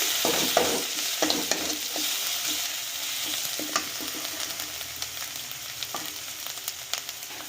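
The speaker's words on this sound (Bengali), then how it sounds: "হলদি গুঁড়োটা দিয়ে এক থেকে দু মিনিট আমরা আরেকটু নাড়াচাড়া করে নিচ্ছি" Spice paste with turmeric powder fries in a pan for a fish curry while a spoon stirs it, soft continuous sizzling broken by frequent scraping clicks, close and alone.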